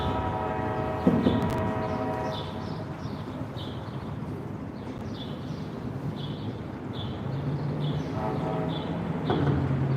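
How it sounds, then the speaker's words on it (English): A CSX or Norfolk Southern train horn sounds in long steady blasts over the rumble of a passing train, heard trackside, with a brief break before the horn returns near the end. "Well, we've got another horn."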